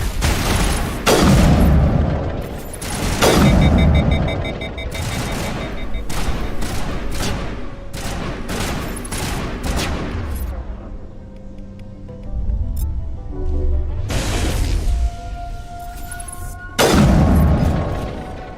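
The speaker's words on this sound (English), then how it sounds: "They got rocket launchers." Rocket launcher blasts and gunfire in the Mass Effect video game: heavy booming explosions arrive in several loud bursts, mixed with rapid weapon fire and crackling debris between quieter gaps.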